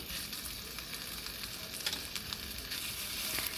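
Onions for samosa filling sizzle steadily in about two spoons of hot oil in a kadai, a bright crackling hiss with occasional sharper pops and faint stirring.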